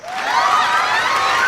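Crowd cheering laid over a fishing scene, a continuous broad roar of many voices that stays steady and loud throughout.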